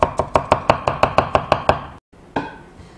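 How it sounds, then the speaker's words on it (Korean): A kitchen knife julienning napa cabbage on a cutting board for ulmyeon: about a dozen quick, crisp chops in steady rhythm, a brief pause, then one more cut, close and clear with no talking. "이렇게 채 썰고 그 다음 배추 심도 혹시 두껍다면 콧떠주시면 됩니다"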